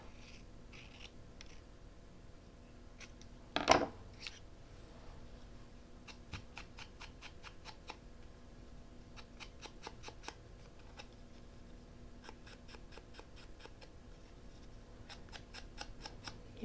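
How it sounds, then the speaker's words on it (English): Paper being cut with scissors while decorating the inside cover of a bird journal: faint, quiet rapid snipping clicks come in bursts through a hushed room, with one louder rustle early on. "Let's cut this up so it's a little bit nicer."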